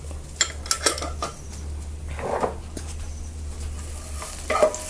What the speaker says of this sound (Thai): แล้วก็จะผัดให้หอมเลยค่ะ